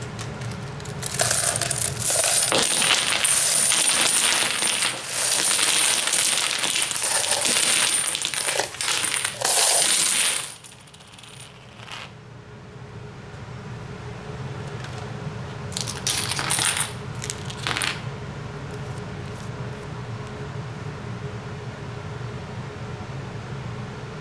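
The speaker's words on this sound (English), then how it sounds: "now we're gonna drop some coins on top of the screen from about 3 feet" Coins dropped from about three feet clatter onto the screen of a Samsung Galaxy S8 Active, a loud, busy jangle of metallic hits for about ten seconds, then quieter scattered clinks.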